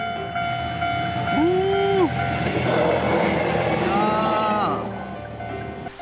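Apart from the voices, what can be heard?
express train passing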